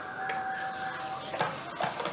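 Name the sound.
masala spices frying in oil with cumin and asafoetida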